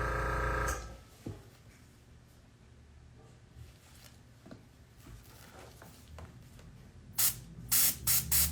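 An airbrush air compressor recharges after tulips are painted on black paper, a steady low hum through most of the stretch, then sharp loud bursts of spraying air near the end.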